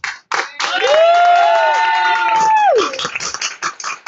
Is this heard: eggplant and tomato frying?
no